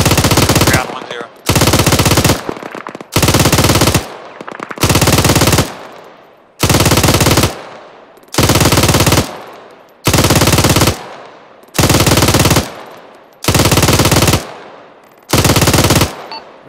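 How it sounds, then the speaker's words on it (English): Sustained machine gun suppressive fire in the military video game Arma 3, loud and close, delivered as about ten long bursts of roughly a second each with short gaps between them, with no speech. "Catfish, give us suppressive fire."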